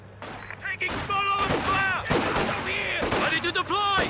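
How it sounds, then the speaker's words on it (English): Machine gun fire and artillery from a Company of Heroes 2 1v1 match, with dense bursts of gunfire, whistling shell sweeps and explosions rolling continuously over a busy battle backdrop. "That machine gun is in position."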